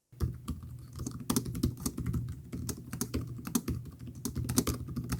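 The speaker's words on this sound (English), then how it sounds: "I like this keyboard a lot. It has plenty of key travel and it feels very clicky." Fast, steady typing on the clicky, long-travel keyboard of an Asus ROG Zephyrus G14 (2026) gaming laptop, close and crisp with rapid overlapping key clacks and no talking.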